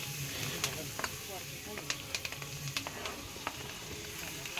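Garlic and cumin sizzle in hot oil with a steady frying hiss, sharp crackles and pops scattered throughout, and a voice speaking over the cooking.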